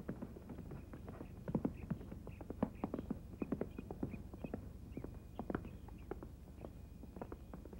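A stocking-legged horse's hooves clip-clop steadily in an uneven walking rhythm, close and moderately loud, with no voices over them.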